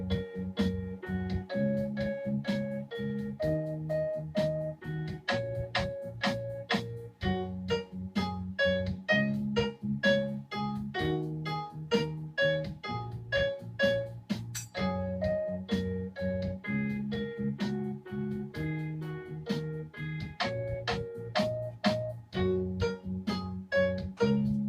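A child who is not a musician improvises a pentatonic melody on the black keys of a piano, a steady run of single notes and simple chords moving up and down for about twenty-five seconds, moderately quiet with no voices.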